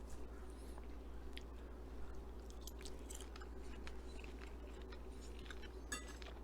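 A person chews a bite of overcooked braised chuck eye beef roast close to the mic, soft wet mastication with faint clicks of cutlery, steady under a constant low hum.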